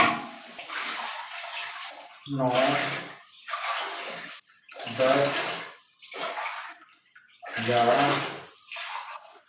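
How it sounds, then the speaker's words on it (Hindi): Glass after glass of water is tipped into a cooking pot for egg fried rice, four loud splashing pours with short pauses between them while a man counts aloud. "और ये 12 गिलास पानी हमने इसमें डाल दिया।"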